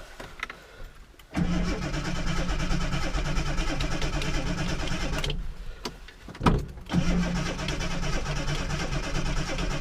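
A Ford Granada Mk1 with a carburettor engine cranks repeatedly without catching, the starter churning in a steady rhythmic whir in two long bursts with a brief pause between, close and moderately loud.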